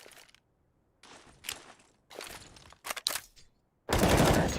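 Gunfire in a competitive team video game scrim, heard as several separated bursts of rapid shots with gaps of silence between them, ending in a loud, sustained burst of fire.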